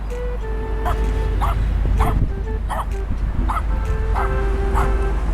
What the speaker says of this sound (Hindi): लगता है यहाँ के कुत्तों ने यहाँ के कुत्तों को बता दिया है कि मैं आ गया हूँ।